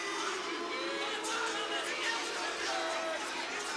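Arena crowd at an MMA bout between Travis Fulton and Vladimir Matyushenko reacts with a steady, loud roar of displeasure, dense with mixed shouts and whoops, continuous throughout without letting up.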